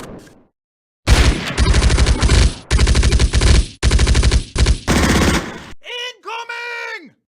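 Loud, close machine gun fire in the Close Combat war game rattles in several long sustained bursts broken by brief gaps, followed by a short yelling voice at the end.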